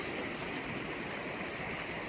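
River water flows steadily at Thorpe Cloud in the Peak District, a dense, even rush of splashing water close by and continuous throughout, with no voices.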